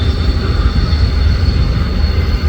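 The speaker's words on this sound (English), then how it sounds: "this is definitely a CSX train using Norfolk Southern lines" A CSX freight train with a mid-train ET44 locomotive rolls by on Norfolk Southern track, a steady loud low rumble of wheels and engine with a faint high tone above, continuous throughout without speech.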